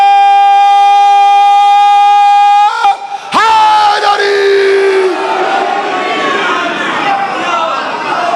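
A large crowd at a religious majlis in Chakwal, Pakistan roars and shouts slogans together after a loud sustained tone, the massed voices continuing loudly and steadily throughout.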